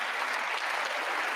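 Steady audience applause fills the whole moment, a dense wash of many hands clapping at once with no break or pause.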